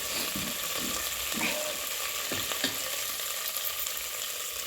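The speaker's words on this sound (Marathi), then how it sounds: "आता मसाला भाजून घेतलाय।" Masala for chicken curry fries in a pan, a steady close sizzle with a few soft scraping stirs early on, continuous and even throughout.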